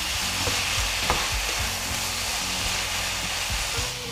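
Vegetables and mushrooms sizzle steadily in a pan with soy and oyster sauce while being stirred, a constant close hiss broken by scraping strokes of the utensil.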